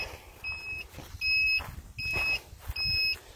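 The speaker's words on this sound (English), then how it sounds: "I'm gonna turn one of these turn signals on. It beeps" The turn signal of an electric vehicle beeps four times at an even rhythm on the dashboard, clear high tones over a low engine or road rumble.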